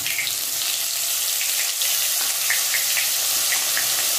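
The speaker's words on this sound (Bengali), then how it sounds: "ফোড়নের কাছে এখন দিয়ে দেবো পেঁয়াজ পেস্ট" Onion paste hitting hot oil tempered with dried red chilli, whole cumin and curry leaves, giving a steady hissing sizzle with scattered small pops throughout, heard alone without voices.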